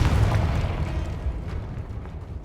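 A Confringo fire spell blasts in Hogwarts Legacy gameplay, a dense, rumbling explosion that starts loud and decays slowly over a couple of seconds, heard alone with no talk.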